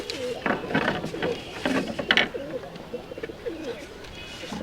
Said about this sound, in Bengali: সব অনেক কবুতর উঠছে সব কবুতর